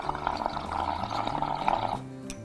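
Air blown through a metal straw into soapy liquid makes a steady close bubbling and gurgling that runs for about two seconds, then stops.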